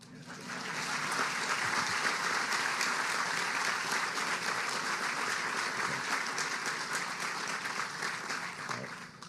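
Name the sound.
audience applause at a grand opening ceremony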